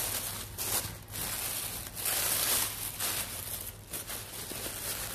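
Crinkling and tearing of wrapping around a Halloween tag flipbook swap package, a steady close rustle with a few louder bursts of crumpling and no talk.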